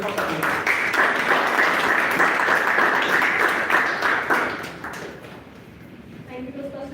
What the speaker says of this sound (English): With a huge round of applause, I want all of you to welcome Toastmasters.